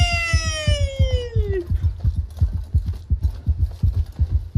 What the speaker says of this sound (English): And you nearly pass out from the increased heartbeat.